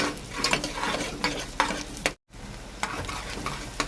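Onions sautéing in a pan for Tamil-style mutton kulambu, a steady close sizzle broken by sharp scrapes of a spatula stirring, with a brief dropout partway through.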